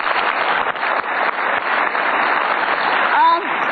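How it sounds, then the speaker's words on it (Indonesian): Studio audience applause on an Indonesian TV talk show, a steady dense wash of clapping that runs the whole moment at fairly loud level, with a brief voice rising near the end. "Kita kasih tepuk tangan."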